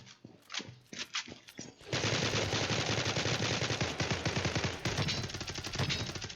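Rapid automatic gunfire rattles in a battle royale video game, loud and continuous after a few scattered single shots at the start.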